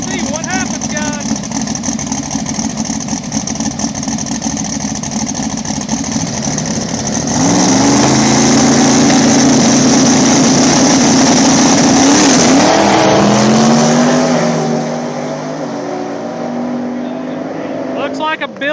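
Small-tire drag race cars at a Columbus, Ohio track roar loudly as they launch and accelerate, a dense engine blare that swells and rises in pitch mid-clip, with voices talking throughout.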